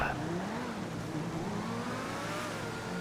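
A McLaren MP4-12C, the Progen T20, drives in GTA Online with a steady engine drone whose pitch slowly climbs and falls under acceleration, heard continuously and fairly close.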